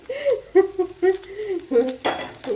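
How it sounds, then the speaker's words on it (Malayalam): Finely sliced onion goes into an oiled pan for a green banana stew and is stirred with a metal spoon, giving short scraping clinks against the pan and a faint sizzle. "ഇനി ഇതിലേക്ക് ഒരു സവാള ഇതുപോലെ നൈസായിട്ട് അരിഞ്ഞെടുത്തിട്ടുണ്ട്, അതും കൂടെ ചേർത്ത് കൊടുക്കുക."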